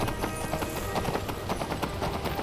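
Horse hooves clip-clop in a steady, quick rhythm as a horse is ridden in the video game Skyrim, loud and continuous against a dense game soundscape.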